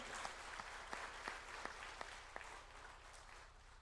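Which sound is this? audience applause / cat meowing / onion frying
audience applause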